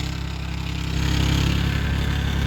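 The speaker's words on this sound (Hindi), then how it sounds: "ये ट्रैक्टर पिछाड़ में आ रहा होगा" A tractor engine runs in a sugarcane field, a steady low droning rumble that swells slightly louder partway through, with no voices.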